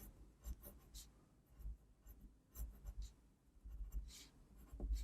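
Pencil strokes scratch across paper as a comic artist darkens and shades lines on a drawing, soft rhythmic rubbing and scraping in short bursts, close and quiet, with no voice.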